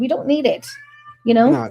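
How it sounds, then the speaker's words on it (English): A pet cat meows once, a clear drawn-out cry between bursts of close indoor talk. "So that's my cat."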